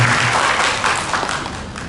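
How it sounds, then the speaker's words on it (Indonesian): An audience in an Indonesian Quran recitation and memorization lecture hall claps together, a dense, even wash of applause lasting under two seconds with a few heavier thumps mixed in. "Tepuk tangan dulu dong."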